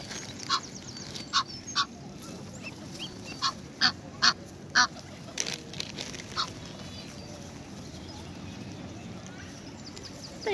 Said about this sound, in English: I've got some geese there showing off.